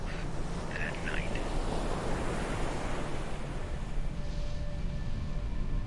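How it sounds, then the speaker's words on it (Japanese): Ocean waves at night in an SCP video game wash in as a continuous, dense roar of surf with wind-like hiss, steady and fairly soft, with no talk. "夜の海かしら、不気味ね。"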